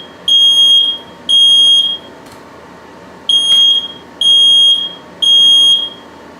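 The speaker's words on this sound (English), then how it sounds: "Let's see if we can avoid the smoke alarm." Smoke alarm set off while dark-roasting coffee, shrilling in five loud, piercing bursts of about half a second to a second each, separated by short gaps, with no talking.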